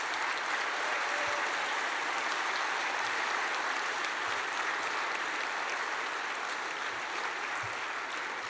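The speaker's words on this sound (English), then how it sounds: "please give them a big applause" Conference audience at a global ministerial road safety meeting gives sustained applause, a dense, even wall of clapping from a large hall that stays constant throughout.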